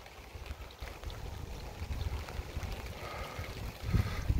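Wet, windy December weather outdoors in England: a continuous low rumble of wind buffeting and gusting, strengthening toward the end, with a damp rushing wash beneath and no one talking.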